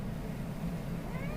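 A pet cat, a girl kitty, meows briefly and softly close by over low indoor room hum, one short call within a quiet moment.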